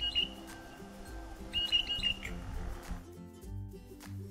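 A blue jay gives short squeaky, creaking calls in two brief bursts, fairly close, over a low rumbling background with no talking.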